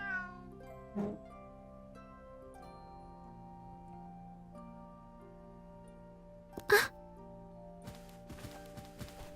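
A cat in the video game Star Ocean: The Last Hope meows twice, one short call early and a louder, sharper one later, over a soft sustained musical backdrop.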